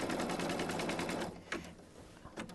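An embroidery sewing machine stitches an appliqué placement line in a rapid, even burst of mechanical needle pulses for just over a second, then stops, followed by a couple of sharp clicks.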